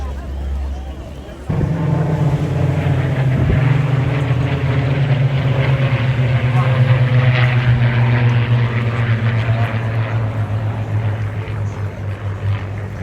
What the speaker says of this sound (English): Flying the Spitfire today is Graham Pemberton and the Mustang Alistair Stagg Williams.